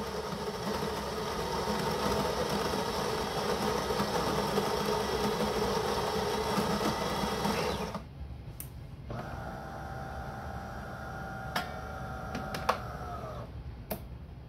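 A De'Longhi Dinamica Plus bean-to-cup espresso machine brewing a double espresso at maximum strength: a steady pump and mechanical hum, then a sudden drop to a quieter whir with a few small clicks and ticks.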